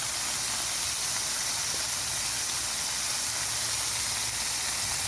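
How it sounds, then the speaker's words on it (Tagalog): Chicken gizzards sizzle in a pan with tomatoes for adobo, giving a steady, even hiss that holds unbroken from start to end with no voices. "Then, tunog po yung balon-balunan."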